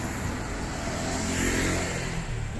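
Cars moving along a road beside a shopping strip with a 7-Eleven, heard on a January walk: a continuous loud engine and tyre roar that swells near the middle and stays close throughout.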